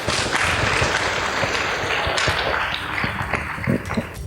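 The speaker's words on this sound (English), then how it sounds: "Please give both teams a round of applause." Studio audience applauding two high school teams after a tied quiz contest, a loud dense wash of clapping with some sharper individual claps, continuing steadily before easing slightly toward the end.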